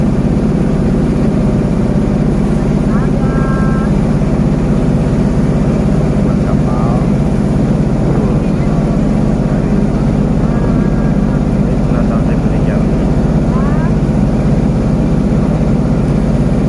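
A constant low boat engine drone rumbles throughout a sea crossing to Pahawang Island, steady and loud, with faint voices and scattered tonal sounds drifting over it.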